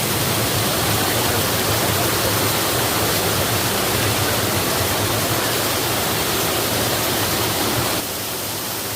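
Ladai waterfall near the Meghalaya border, a steady, loud rush of falling water that fills the whole clip with unbroken noise, easing slightly near the end.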